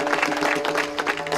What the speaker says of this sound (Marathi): त्या गावकऱ्यासाठी एकदा जोरदार टाळ्या सगळ्यांनी वाजवल्या.